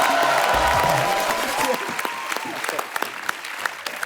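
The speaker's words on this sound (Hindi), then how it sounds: "जोरदार तालियां" A studio audience at a television comedy show breaks into loud applause, a dense wash of clapping that gradually thins into scattered claps, with a voice heard briefly at the start.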